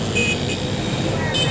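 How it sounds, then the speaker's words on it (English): Road traffic noise heard from the open back of a moving lorry on a busy road near Sokwai, Ghana: a steady broadband rumble of engines and wind, loud and continuous, with a faint horn-like tone near the end. "that's the traffic behind us"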